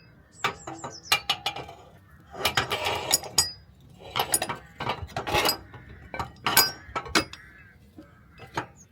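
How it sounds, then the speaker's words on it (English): Sharp metallic clinks and knocks sound close by as a brake backing plate and half shaft are fitted to a Mk2 Escort rear axle, irregular bursts of parts scraping and tapping together. "I've got to hold the backing plate in one hand but also push the half shaft in."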